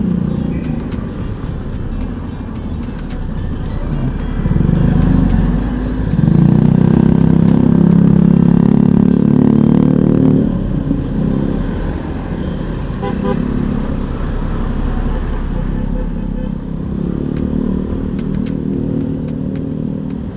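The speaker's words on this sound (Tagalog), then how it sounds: "Nabutan na tayo ng traffic." Road traffic heard from a motorcycle: a continuous engine drone and passing vehicles, with a louder stretch of rumbling in the middle and occasional short horn toots.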